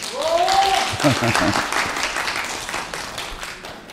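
A crowd gives a round of applause at a Korean lecture, dense clapping swelling quickly and then slowly fading over several seconds, with a voice talking over the start.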